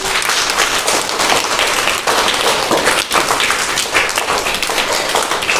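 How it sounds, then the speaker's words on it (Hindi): A group of children applauds for Rohini, the winner of a stop-and-walk school game, with dense, steady clapping that stays loud and continuous for several seconds. "सब लोग रोहिणी के ताली बजाओ।"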